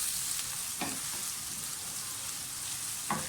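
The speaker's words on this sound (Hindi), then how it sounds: "प्याज को अच्छी तरह से फ्राई होने दें।" Onions frying in oil in a pan for bhuna mutton, a soft steady sizzle with a couple of brief stirring scrapes.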